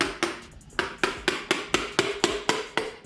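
A Fox body piston is being tapped into the bore of a 351 Windsor engine block with about nine sharp, evenly spaced knocks in a steady rhythm, close and clear, with no talking.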